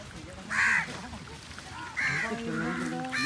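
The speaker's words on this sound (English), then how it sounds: "He's going to scare the crow." Crows at a beach give a few hoarse caws, one near burst early and a longer, lower run of calls later, over soft outdoor background noise.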